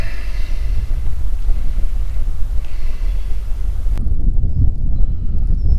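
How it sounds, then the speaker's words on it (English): Strong wind buffets the microphone outdoors on a lake during a smallmouth bass fishing outing, a steady low rumble that runs the whole time and gets rougher after a sudden drop in hiss partway through. "The wind blowing in on this could prove to be big."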